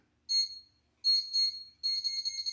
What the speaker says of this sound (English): this is Pampered Chef's newest timer